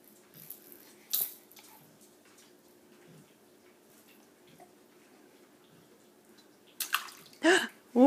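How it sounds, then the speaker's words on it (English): Water splashes in a pot as a child plays with a toy in it, with quiet drips and clinks followed by several sharp, loud splashes near the end. "Whoa, that was a big splash."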